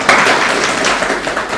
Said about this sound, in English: May we give a clap?